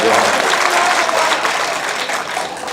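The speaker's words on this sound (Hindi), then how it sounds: "तालियां कमजोर सी थी कुछ।" Audience at an All India Mushaira poetry gathering in Noida applauding a recited verse, a dense wash of many hands clapping loudly throughout, fading a little toward the end.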